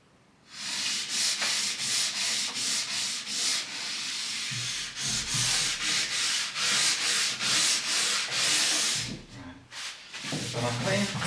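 Ski base being cleaned and scraped before waxing, a loud, close, rhythmic rasping in repeated strokes, with short pauses and a brief break near the end.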